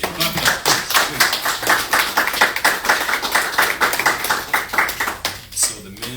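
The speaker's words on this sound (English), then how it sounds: "clap it up, please." Audience clapping at a sneaker launch event for Agency Footwear, a steady dense round of applause with sharp hand claps throughout, fairly close and loud, fading slightly near the end.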